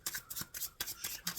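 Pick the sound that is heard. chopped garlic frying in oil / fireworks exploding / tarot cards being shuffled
tarot cards being shuffled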